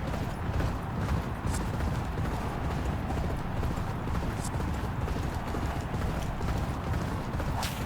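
Racehorse hooves gallop in a continuous, fast clip-clop during a race in the Champion Jockey video game, loud and close, with a dense rumbling under the steady beats.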